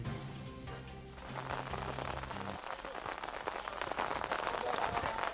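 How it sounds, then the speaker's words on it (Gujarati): Heavy rain pours down in Gandhinagar as a dense, steady hiss of drops on surfaces, with a low droning hum underneath during the first few seconds. "અમદાવાદમાં અચાનક વાતાવરણમાં પલટો આવ્યો, વરસાદ વરસી રહ્યો છે"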